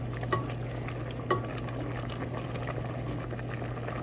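Spaghetti simmers in a pot of boiling water, a steady bubbling hiss with two brief clinks of a utensil against the pot as it is stirred, close and fairly quiet with no voices.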